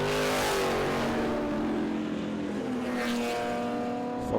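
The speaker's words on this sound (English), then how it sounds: "And the 260Z coming in there, car 177." A Datsun 260Z race car runs a regularity session at a motor racing festival, its engine a loud, sustained tone that rises and shifts as it drives past on the track, with no talk over it.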